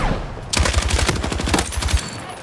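Rapid automatic gunfire in the video game Battlefield 6, a loud, dense burst of evenly spaced shots running for about a second and a half.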